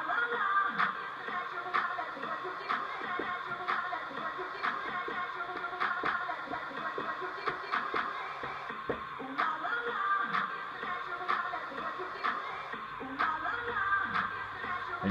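A chopped electronic loop sliced in Traktor 2.7 Freeze Mode, with rhythmic, stuttering slices repeating at a steady pulse over a dense, continuous mix, no voices.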